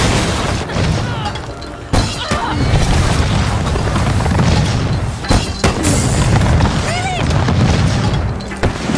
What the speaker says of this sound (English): Don't want other people using this mortar.